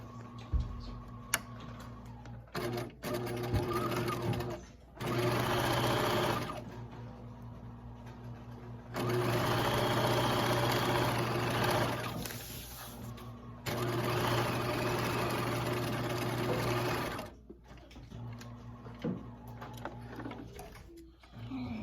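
A sewing machine runs in several bursts of steady mechanical whirring while stitching a zigzag seam on a romper, with short pauses in between and no talking.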